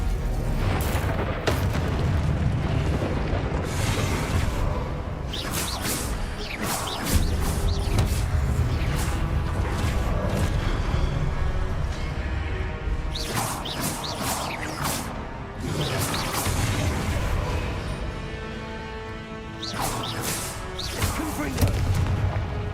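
Spell blasts and explosions from Hogwarts Legacy combat, a dense, continuous barrage of booming impacts and crackling bursts that rises and falls over twenty-odd seconds, with short voiced spell calls mixed in.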